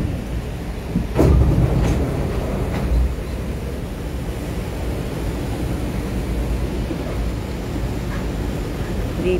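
Train ride on a Taiwanese metro-style train near Miramar Mall, with a steady low rumble of carriage and tracks throughout and a few louder clanks and bumps near the start, no speech.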